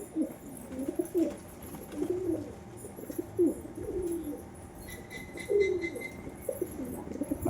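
Indian fantail pigeons, a big white one among them, coo in repeated throaty rolling phrases close up, with soft background hiss and no talking.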